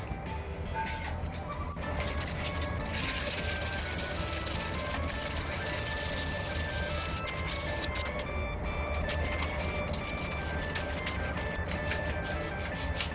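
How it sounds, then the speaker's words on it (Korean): Steady, continuous abrasive rubbing of sandpaper against a golf club shaft, cleaning off epoxy residue, loud and close, with no pauses throughout. "이 부분 또 사포로 깨끗하게 다 정리를 하도록 하겠습니다"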